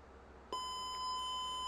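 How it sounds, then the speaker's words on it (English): A steady high-pitched electronic beep from a Bop It Refresh toy in sensor test mode switches on abruptly and holds, sustained and fairly loud, with a faint hiss underneath. "Wait for it to beep."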